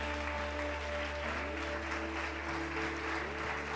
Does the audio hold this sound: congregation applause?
yes